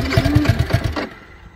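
A 2024 Yamaha R15 motorcycle trying to start and then stalling. The engine sputters in quick, uneven pulses for about a second, then cuts out and leaves near silence.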